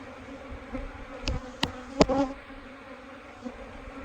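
Honey bees buzz around an opened hive during hive work: a steady, close, low droning hum broken by a few sharp knocks and clicks of frames and equipment.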